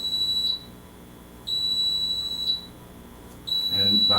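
A tornado weather alert device sounds in sharp, high-pitched one-second beeps with short gaps between, loud and close, with a brief rustle near the end.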